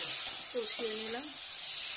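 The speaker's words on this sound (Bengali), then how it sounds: "আলুর সঙ্গে আমি ভালো করে কষিয়ে নিচ্ছি।" Potatoes sautéing in a pan for a prawn-head curry, a steady hiss of sizzling oil with light stirring, while a voice speaks briefly partway through.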